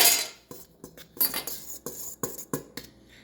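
Spoon or whisk clinking and scraping against a bowl while chocolate pound cake batter is mixed, a quick uneven run of close clatters with no talking.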